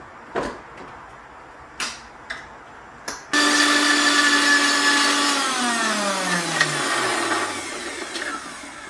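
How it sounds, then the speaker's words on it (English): A few knocks and clicks of setting up, then a kitchen blender roars to life blending cooled irikai chutney, its loud whine sliding downward in pitch as the motor slows under load. "I'm going to blend the irikai chutney now as it's completely cooled down."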